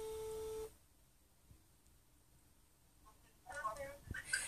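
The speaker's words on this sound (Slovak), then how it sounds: "už zvoní." A telephone ringback tone heard while placing a call sounds as one steady tone lasting under a second, followed by a quiet open line and a few faint clicks and blips.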